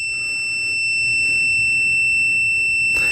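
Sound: continuity beep of TOOLTOP ET8135 multimeter

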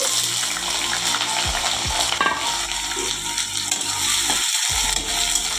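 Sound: chopped onions frying and being stirred in a pan

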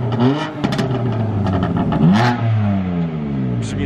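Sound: BMW M3 Competition revving with stock factory exhaust

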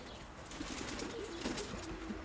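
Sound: pigeons flying near their loft

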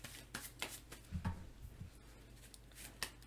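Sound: drawing two cards in a Marvel Legendary card game

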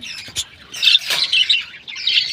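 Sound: pet birds squawking

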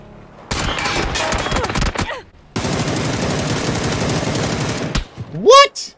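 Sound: sniper gunfire in video game PUBG

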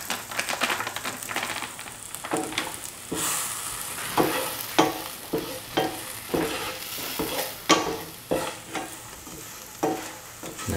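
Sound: stirring prawns with chilli powder in a pot

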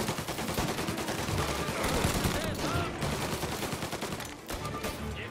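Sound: gunfire in the video game Mafia: Definitive Edition

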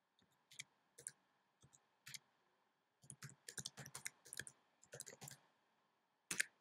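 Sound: typing domain name on computer keyboard

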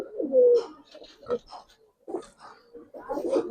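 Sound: male Giribaz pigeon cooing

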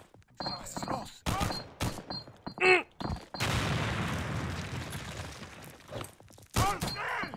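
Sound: explosion in a video game

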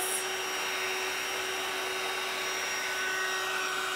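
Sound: blow drying paint on a Dollar Tree sled

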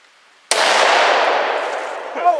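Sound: gunshot from a handgun fired at cardboard

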